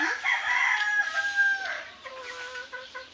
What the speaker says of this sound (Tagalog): Yung mga manok po namin doon naghahalimhim sa likod